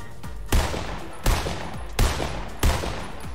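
Four loud, evenly spaced gunshot blasts ring out in a Fortnite match, each sharp crack followed by a short decaying tail over a steady background hum.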